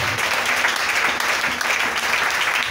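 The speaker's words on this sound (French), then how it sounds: "Est-ce qu'on peut acclamer pour le Seigneur?" A church congregation applauding for the Lord during a sermon, a steady, full wash of many hands clapping together that fills the whole moment without a break.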